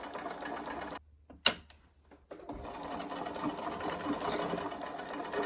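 A sewing machine stitches a doll-sized school dress, running steadily near and close, stopping briefly for a pause with a sharp click, then resuming its continuous whir.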